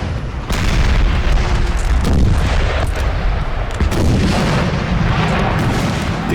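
Napoleonic 6-pounder cannons fire in Napoleon Total War battle, a dense rumbling roar of booms and blasts rolling continuously with sharper shots cutting through, loud and without talk.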